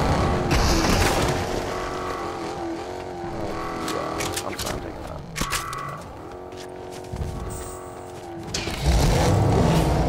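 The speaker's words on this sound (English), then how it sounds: "these cars are just sound so nice" Car engines in a Fortnite match hum and rev at shifting pitch, rising and falling under the game's other effects, with a louder surge near the end.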